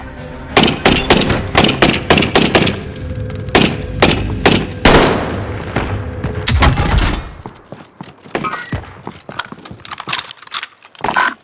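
Video game gunfire on the Pacific map: dense bursts of rapid shots and single loud cracks, close and sharp, clustering heavily at first then thinning into scattered shots, no talk.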